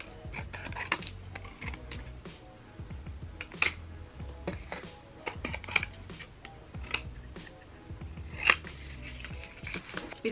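Scissors snipping craft paper into small pieces for a manifestation board, a quick irregular series of close, crisp cuts and rustles, quiet and without speech.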